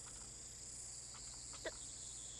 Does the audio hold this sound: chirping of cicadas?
yes